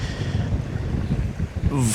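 Strong wind before a storm buffets the microphone in a continuous low roar at a pond shore, with a brief voice near the end.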